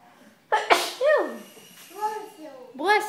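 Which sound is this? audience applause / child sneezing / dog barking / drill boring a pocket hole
child sneezing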